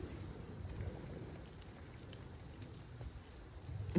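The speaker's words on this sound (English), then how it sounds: "It sounds like it's raining, but it's all the water drops falling off the trees." Soft, scattered pattering of water drops falling from trees after rain, faint and steady like light rain, with no voices.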